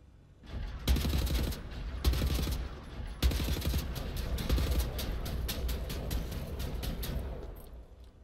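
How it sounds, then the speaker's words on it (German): Gunfire in the video game Wolfenstein: The New Order, with loud bursts of rapid automatic shots in several volleys, then a sustained stretch of dense crackling fire that fades near the end. "Da schießt doch irgendeiner."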